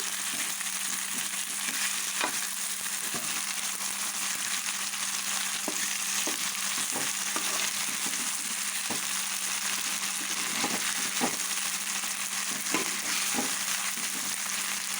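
Fish pieces for a fish curry sizzle and fry steadily in a pan, a dense continuous crackle with occasional soft taps as the pieces are turned, and no talking.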